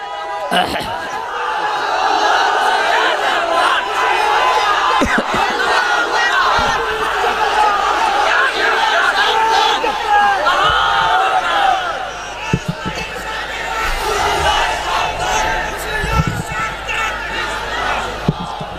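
A large crowd at a religious gathering roars a loud, sustained collective chant in unison, answering a call, with voices swelling and dipping over the full stretch.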